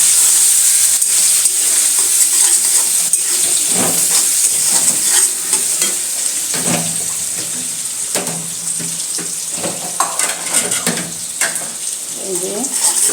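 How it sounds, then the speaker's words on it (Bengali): Chopped onion frying in a pan for a home-style chicken roast; a continuous loud sizzle with scraping stirs and occasional clatters, and a voice talking faintly under it. "এই যে পেঁয়াজটা একটু ভেজে নিব"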